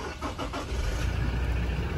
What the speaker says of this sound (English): So we'll just start the car up for